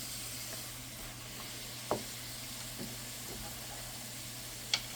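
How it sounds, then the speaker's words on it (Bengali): Zarda semai, a sweet vermicelli dish, simmers covered on low heat, giving a faint, steady hiss with a few soft clicks and ticks from the pot. "এখন আমি সিদ্ধ হওয়ার জন্য ঢেকে রাখবো।"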